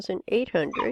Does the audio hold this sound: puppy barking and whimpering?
yes